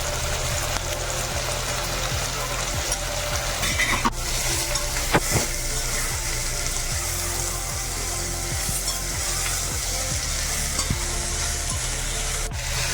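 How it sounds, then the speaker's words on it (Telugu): Ginger garlic paste is stirred into a frying pan for sweet corn biryani under a steady sizzle. A spatula scrapes regularly and clatters once or twice against the metal. No one talks. "అల్లం వెల్లుల్లి పేస్ట్ కూడా వేసుకొని ఒకసారి కలుపుతున్నాం"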